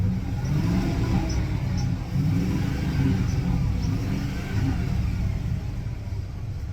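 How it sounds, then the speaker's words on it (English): A truck engine idles steadily after a fault code was cleared, with a low, continuous rumble throughout, fairly close and even in loudness. "Engine sounds good."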